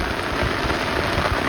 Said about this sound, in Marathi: एकदम जोरात तुफान पाऊस आलाय भाऊ आता